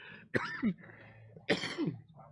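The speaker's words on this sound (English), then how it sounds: "making me cough" Two sharp, harsh coughs about a second apart, close and loud, each with a raspy throaty tail.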